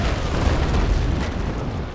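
Ship cannons firing in Naval Action, a sustained low rumbling roar of broadside fire that stays loud and dense for the whole stretch, with no distinct gaps between blasts.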